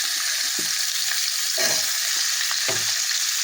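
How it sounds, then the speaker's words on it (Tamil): Raw mango pieces frying with curry leaves in a pan, a continuous loud sizzle broken by occasional stirring clatters, close up with no talking. "கருவேப்பிலை போட்டு இதில் நம்ம மாங்காய் போட்டுக்கலாம்"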